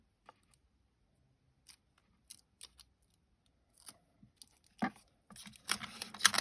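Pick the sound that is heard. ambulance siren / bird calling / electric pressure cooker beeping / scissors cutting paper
scissors cutting paper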